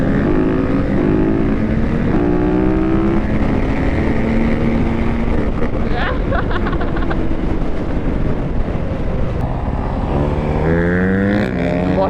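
Quad ATVs race and drift, their engines droning loudly and continuously with rising and falling revs as machines pass and accelerate, layered over one another without pause.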